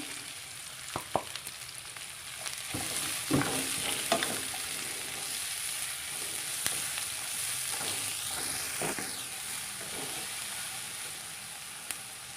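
Onion sizzles steadily in a hot pan for fried rice vermicelli with shrimp, a continuous close hiss broken by scraping and stirring knocks, with no talk.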